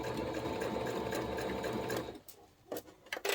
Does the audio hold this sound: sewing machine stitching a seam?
yes